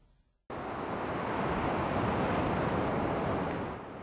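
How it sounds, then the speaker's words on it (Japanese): Surf rolls in at Hamasaki beach in Karatsu, Japan, on an eroding sandy shore, a loud, dense, continuous wash of waves with wind noise that begins abruptly and eases slightly toward the end, with no voices. "唐津市の浜崎海岸に来ております"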